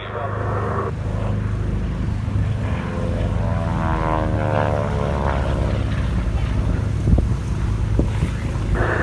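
A vintage 7W aircraft with a Pratt & Whitney Wasp Junior radial engine flies past at an airshow, its propeller drone loud and steady with a shifting pitch, accompanied by wind buffeting on the microphone.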